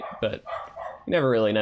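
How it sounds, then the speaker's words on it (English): A dog outdoors barks and yelps loudly for about half a second, coming after a stretch of quiet indoor talking. "there was a dog outside that started barking and this happened"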